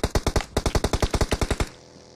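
Rapid automatic gunfire from a mobile battle royale game, a steady burst of about fourteen loud close shots in even rhythm that stops abruptly, leaving a faint ringing tail.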